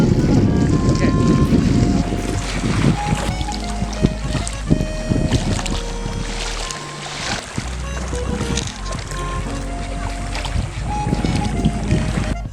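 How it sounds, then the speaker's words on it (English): Water and waves wash around a drifting sealed vessel, heard from inside: a continuous loud churning and sloshing with low rumbling and wind buffeting, and occasional splashes. "you can just hear the water, you can hear the waves"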